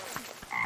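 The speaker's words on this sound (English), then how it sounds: "is that actually a frog?" A frog croaks in an anime scene, a few short throaty croaks, close and fairly clear, with no talk over them.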